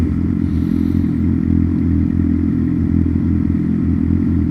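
A sport bike engine drones loud and steady at close range during a commute, a thick low rumble that holds constant throughout with no voices.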